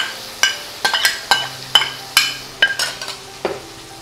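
Spiced curd masala for a sabut badi curry being stirred fast in a hot pan, a spoon scraping and clacking in quick irregular strokes over a soft sizzle.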